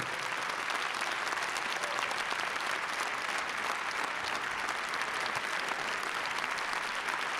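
Sustained audience applause for a singer at a national music awards ceremony, a dense steady wash of many hands clapping from start to finish with no break.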